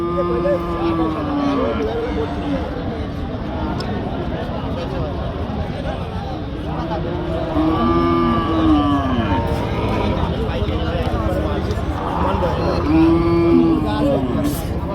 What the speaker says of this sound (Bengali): চৌগাছার গরুর হাট থেকে মাংস উৎপাদনের উপযোগী গাই গরু